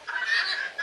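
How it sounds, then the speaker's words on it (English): Speckled Sussex chickens, roosters and hens lined up together on a farm, cluck in a steady, close chorus of short calls, with a louder burst near the end. "These are speckled Sussex."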